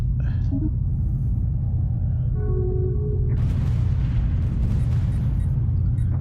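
A large explosion in the space strategy game Stellaris, a deep sustained rumble with a sharp burst near the middle, followed by dense crackling debris noise that keeps roaring to the end.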